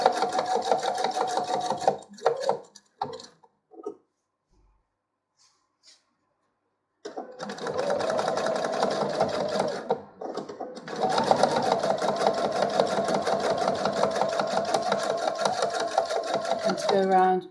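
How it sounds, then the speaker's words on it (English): A sewing machine stitches a quilted four-patch fabric coaster in steady whirring runs. The runs pause and restart, with a near-silent gap in the middle, and someone talks over parts of it. "And you may just need to let your machine just take it slowly"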